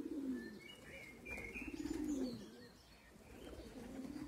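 Racing pigeons out on a training flight, with soft repeated cooing close by and light chirps over a steady outdoor background; no one speaks.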